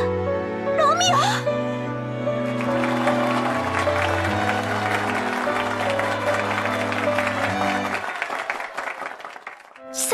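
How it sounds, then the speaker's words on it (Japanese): A crowd claps and cheers steadily under sustained music, loud and continuous before fading toward the end. "すごい歓声ですよ。"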